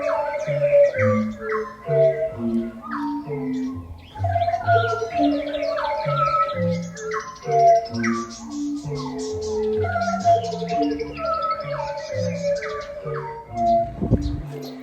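Bird calls and coos blend with steady electronic tones in a looping, rhythmic arrangement that plays on continuously.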